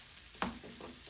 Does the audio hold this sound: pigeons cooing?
no